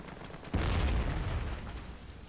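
A grenade blast and gunfire in the Vietnam War shooter Vietcong: a sudden loud boom hits about half a second in and rolls into sustained low rumbling that slowly fades.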